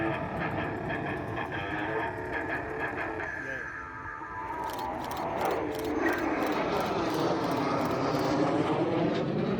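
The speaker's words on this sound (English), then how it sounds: "And Mark Tracy is flying the aircraft today, has taken part in those races." A propeller aircraft flies at the Central Coast Airshow at Warnervale Airport, giving a steady droning engine hum with a rattling mechanical edge, heard at a distance under ongoing loudspeaker commentary.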